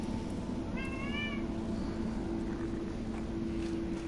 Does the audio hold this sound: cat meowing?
yes